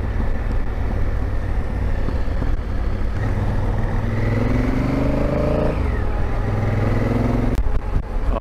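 A motorcycle rides along a road, its engine droning steadily with wind rush over it. The pitch climbs as it accelerates, then drops with a gear change and rises again. No voices are heard.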